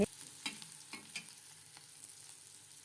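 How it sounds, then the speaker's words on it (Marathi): Crushed garlic and green chillies sauté in a pan, a faint steady sizzle with a few soft scraping stirs early on, close but quiet and free of speech. "लसूण आपल्याला परतून घ्यायचं आहे"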